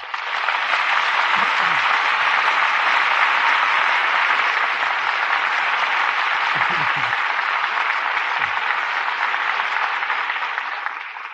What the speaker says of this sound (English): For drama that rates the applause of this audience, our thanks go to this evening's stars.